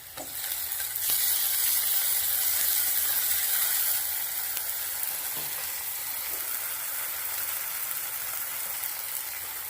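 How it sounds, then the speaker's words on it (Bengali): Fried onions with ginger paste and green chili paste crackle in hot oil, a dense, even sizzle that holds for nearly ten seconds with faint utensil sounds. "পেঁয়াজ একদম লাল লাল করে ভাজা হয়ে গেছে"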